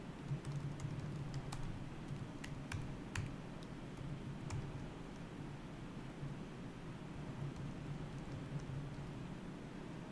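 Someone types on a computer keyboard, producing faint, sparse key clicks over a steady hiss of background noise, with no talking.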